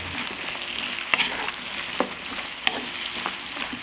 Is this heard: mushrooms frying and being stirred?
yes